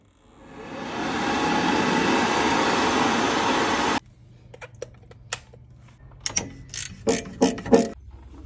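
A Worcester Bosch boiler fan runs after a reset, making a loud, steady whirring rush for a few seconds before it stops abruptly. A series of sharp mechanical clicks and clatters follows.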